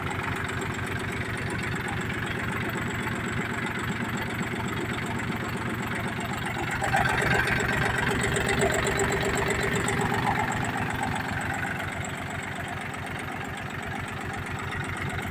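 A Jinma 264E tractor engine idles steadily with a low, even chugging rhythm, close by, swelling slightly louder for a few seconds midway before settling back.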